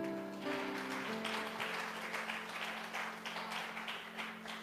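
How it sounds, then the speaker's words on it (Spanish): Church congregation applause during a Spanish-language sermon, a dense, faint wash of clapping heard from a distance over a sustained low musical tone. "Y denle el aplauso al Señor."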